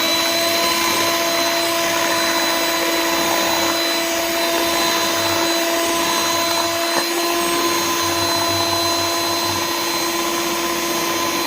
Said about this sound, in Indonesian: Kocok putih telur hingga campur.